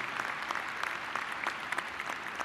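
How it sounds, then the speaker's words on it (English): Applause from the audience at a university winter commencement ceremony, a dense steady wash of many hands clapping throughout, moderately loud and continuous with no voices on top. "please give them a round of applause"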